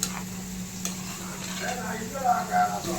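Drumstick mutton curry stirred in a cooking pot, soft scraping and clinks of a spoon against metal over a gentle simmering sizzle.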